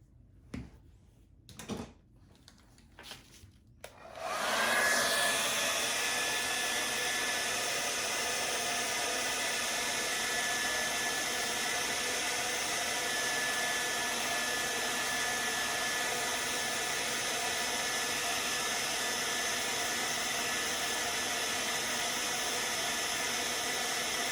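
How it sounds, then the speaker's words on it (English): After a few sharp handling clicks, a blow dryer switches on and runs with a loud, steady whooshing roar for about twenty seconds, drying paint on a fake Christmas cake. "Let me hit it really quick with the blow dryer."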